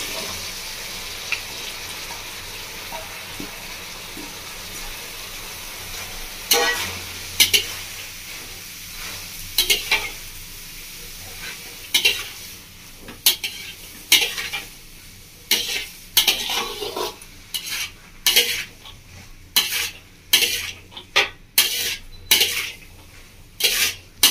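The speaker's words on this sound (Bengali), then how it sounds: "লাউটাকে ভালো করে কষিয়ে নিয়েছি।" Chopped bottle gourd being stirred and sautéed in a spiced pan in a village kitchen. Soft frying sizzle runs underneath, joined by increasingly frequent sharp clinks and scrapes of a metal spoon against the pan, close and loud.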